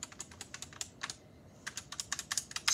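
Fast typing on an Asanity One computer keyboard, a close, quiet stream of crisp key clicks in irregular bursts with a brief pause midway.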